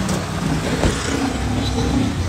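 A Honda City car pulls out and drives off, its engine a steady, moderately loud rumble with a faint rev partway through, no voices over it.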